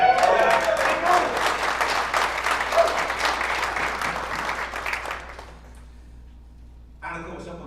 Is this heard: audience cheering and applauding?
yes